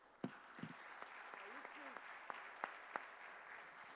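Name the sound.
audience applause at church conference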